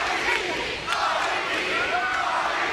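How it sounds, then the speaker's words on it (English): A large wrestling-event crowd at a pay-per-view chants in unison, a loud, rolling roar of many voices that swells and dips in rhythmic waves, filling the arena. "Crowd getting in the head of Daniels with the RVD chants."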